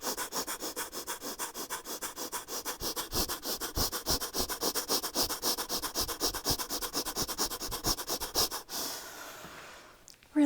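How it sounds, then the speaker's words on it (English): Rapid, rhythmic breathing through the nose during a yoga flow, quick sharp inhales and exhales repeating evenly and close for about eight seconds before stopping. "Let's take some rapid inhales and exhales through the nose"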